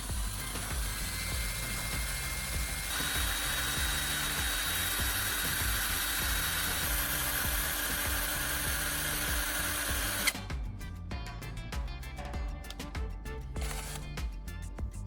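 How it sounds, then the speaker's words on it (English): A power drill whirs continuously while grinding a welding rod tip against sandpaper, a steady mechanical buzz that shifts to a rougher, rattling grind near the end. "I attach the rod to a drill, turn it on, and gently grind the tip against sandpaper"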